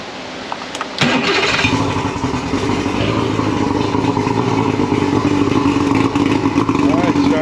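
A Yamaha 115 outboard motor catches with a sharp start after a second of quiet, then runs steadily at a loud, rough idle for several seconds, with a hint of a voice nearby.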